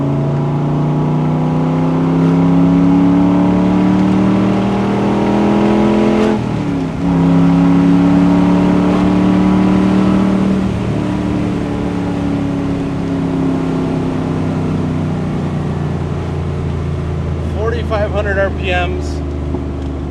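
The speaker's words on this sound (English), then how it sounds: "smooth, clean pull all the way through the RPM range. Pulls like heck, throws you in the seat." A 1967 Chevrolet Corvette with the L71 427 big-block engine roars loudly from inside the cabin, pulling through the rev range in long rising sweeps with a gear change midway, while someone talks over it.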